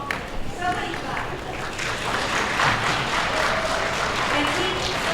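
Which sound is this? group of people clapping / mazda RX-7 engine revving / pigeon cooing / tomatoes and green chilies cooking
group of people clapping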